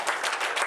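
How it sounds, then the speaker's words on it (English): An audience at a stand-up comedy show claps in a dense, steady wash of applause with slight swells and no talking over it. "Thank you for the applause."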